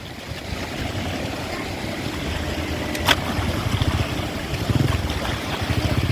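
Strong waves slap against a small boat at sea off Bicol, a steady broadband wash of water and hull noise with one sharper knock midway and surging rushes near the end.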